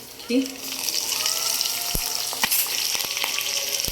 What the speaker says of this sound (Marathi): हिरवी मिरची घातल्यावर त्याला छान असं फ्राय करून घेऊया